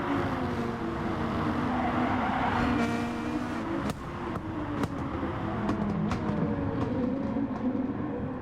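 Two Nissan GT-R race cars battle for position at Brands Hatch Indy Circuit in a GT Cup round, engines roaring steadily with rising and falling pitch and a few sharp gear-change blips, loud and continuous.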